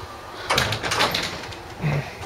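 A screen door on the small inset porch of a rental house in Watauga, Texas opens or closes, with a couple of quick rattling knocks and a softer thud near the end, close and fairly clear.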